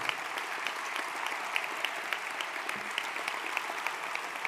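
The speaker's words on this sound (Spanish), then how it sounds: "Quiero pedir también un aplauso para los compañeros italianos" Sustained applause from a crowd at a Podemos political speech, a dense steady patter of many hands clapping throughout with no break.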